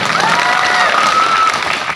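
A loud, close wash of crowd applause at a Birsa Munda Jayanti gathering in Bori, Alirajpur, dense and continuous with a whistle-like tone cutting through before it eases slightly at the end.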